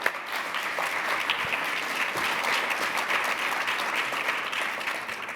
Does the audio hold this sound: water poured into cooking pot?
no